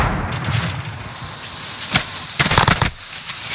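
A stun grenade detonates during a Call of Duty Warzone match, a sharp burst of hissing noise followed by a cluster of crackling bangs over steady game ambience.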